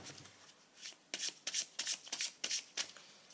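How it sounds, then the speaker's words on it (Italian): Tarot and oracle cards being shuffled, a rapid series of crisp papery riffles and slaps in quick bursts, close and fairly quiet with no talking. "Qua mettiamo una carta di tarocchi e un oracolo."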